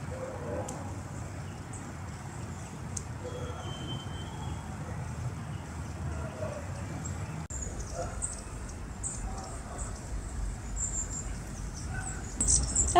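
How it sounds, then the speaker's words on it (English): Small woodland birds including great tits and long-tailed tits call quickly and faintly through steady outdoor background noise, with scattered high chirps across the stretch and someone talking over them. "There are several species of birds here, and all of them extremely fast."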